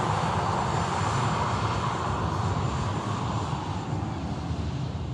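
An airplane arrives at Manchester Airport after a short flight, a steady, broad engine roar at moderate distance that holds for a few seconds and fades slightly toward the end.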